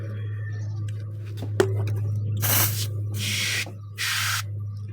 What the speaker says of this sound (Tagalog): So ayan na natin, spray ko na.